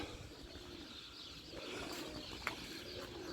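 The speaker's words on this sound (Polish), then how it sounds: "A jeszcze grucha." A racing pigeon coos softly nearby in a quiet loft, its low murmuring calls faint against steady background hiss, with a short sharp click partway through.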